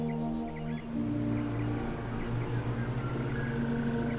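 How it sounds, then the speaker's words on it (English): Morning birds chirp in short, scattered tweets at moderate distance over a steady low engine hum from a Volvo FH16 road train in Western Australia's Pilbara. "listening to the birds tweeting."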